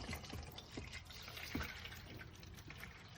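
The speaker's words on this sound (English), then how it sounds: "this is what happens when we pour water into the reservoir" Water is poured into the reservoir of a Gevi 10-cup drip coffee maker with a built-in grinder, making a soft, steady trickle with a few faint splashes, quiet and close.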